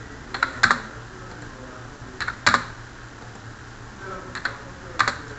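Computer keyboard keys clicked in short bursts, a minus key then Enter pressed repeatedly, four clusters of crisp close taps spaced about two seconds apart over quiet room tone.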